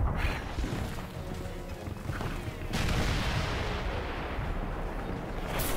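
Cannon fire in the Call of Juarez: Bound in Blood video game, a heavy booming blast followed by a long rumbling tail and a second blast partway through.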